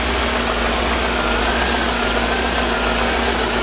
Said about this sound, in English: Yeah, it's revving itself here as it idles down.